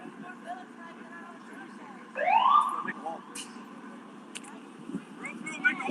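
A fire truck or ambulance siren rises in a loud sweeping wail as it passes protesters in a US street, then fades, with crowd noise and voices around it.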